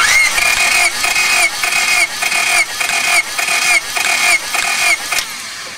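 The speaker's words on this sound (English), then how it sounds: "Okay, I've got number 1 hooked up, so let's turn it over." An engine cranks over with the starter during a compression test, about eight or nine even, loud pulsing cycles in a steady rhythm before it stops, with no voices.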